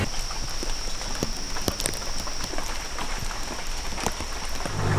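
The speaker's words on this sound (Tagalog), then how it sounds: "pag tumigil itong ulan, ang lakas" Heavy rain pours down at an off-road 4x4 trail retrieval area, a steady, dense hiss of drops pattering on surfaces throughout, with a few sharper taps and no one speaking.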